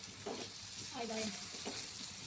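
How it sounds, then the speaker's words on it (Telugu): Eggplant pieces shallow frying in a pan give a steady hiss, with faint voice-like tones briefly rising over the sizzle. "అదేవిధంగా మిగతా వంకాయ పీసెస్ని కూడా ఫ్రై చేసేసుకుంటాము"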